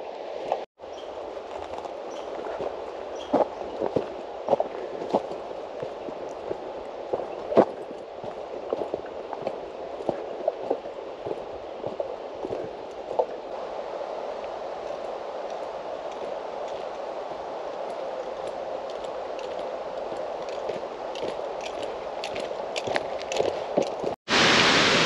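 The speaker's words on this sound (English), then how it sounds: "I can hear the roar of the falls." Roar of War Falls, a waterfall along a road trip from the Sunshine Coast to Fort Nelson, heard as a steady broad rushing wash with scattered clicks and knocks nearby, ending in a sharp cut.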